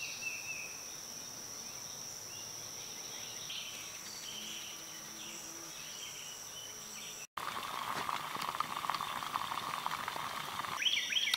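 Water comes to a rolling boil in a pot, a steady close bubbling hiss that runs on unbroken, cuts out for a moment, then returns a little louder and busier.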